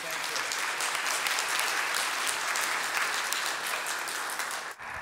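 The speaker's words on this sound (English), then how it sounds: "let's go ahead and give Miss Patricia a wonderful round of applause." A church congregation at a Sunday morning worship service gives sustained, dense applause for Miss Patricia, loud and even throughout before tapering off at the end.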